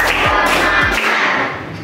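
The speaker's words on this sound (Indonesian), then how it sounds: "Tepuk 3." A classroom of children claps out a counted rhythm pattern together, loud and close, with a couple of heavy thuds standing out in the sustained burst of hands.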